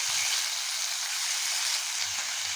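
Chicken pieces sizzle steadily in about a tablespoon of hot oil in a pot, with a dense, continuous frying hiss and faint soft stirring knocks underneath.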